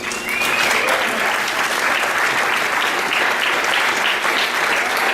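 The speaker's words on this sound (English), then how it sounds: "Let's give a round of applause." Sustained audience applause at a young professionals talk, a dense, even roar of many hands clapping at close range, loud and unbroken from start to finish.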